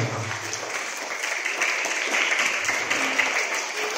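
A morning audience at a community outreach session on organic and inorganic waste processing claps steadily together, a dense, sustained round of applause lasting several seconds.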